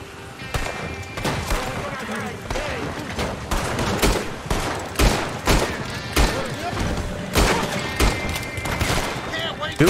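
Rapid gunfire from a Red Dead Redemption 2 online session, with dense overlapping shots and booming reports in quick irregular bursts throughout, loud and close.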